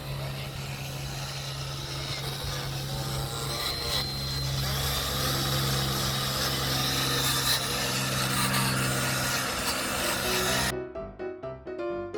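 A Meguiar's scratch eraser pad scrubs car paint in a loud, continuous rubbing rasp that runs steadily for most of the stretch, then stops abruptly, leaving quieter faint clicks near the end.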